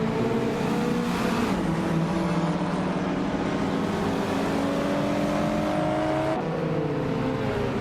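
Racing game engine of a 1993 Lancia Delta HF Integrale, a steady loud drone with rising and falling revs as the car pulls ahead, other engines blending in underneath.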